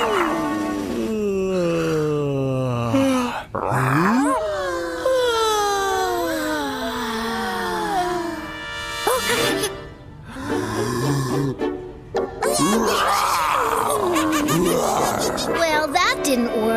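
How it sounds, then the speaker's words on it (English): Exaggerated, drawn-out yawns meant to lull a toy monkey to sleep, sliding down in pitch between bursts of animated character voices in a children's cartoon. "maybe we can yawn him to sleep."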